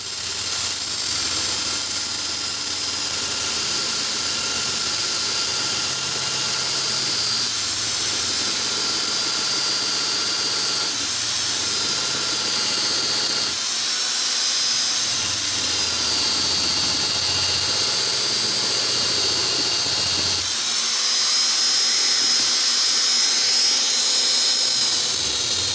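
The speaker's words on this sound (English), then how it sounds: "1/2-inch detail sander here. I'm gonna try and put in like a blood groove or a small fuller" A 1/2-inch detail sander grinds a fuller into a forged Bowie knife blade, giving a loud, continuous, high whirring grind that shifts slightly in pitch as pressure changes, close up for the whole stretch with no talk.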